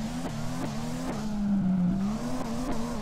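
A Nissan S15 drifting in the DRIFT21 video game, its engine droning at a steady high pitch with rising and falling revs and faint tire noise, loud and continuous throughout.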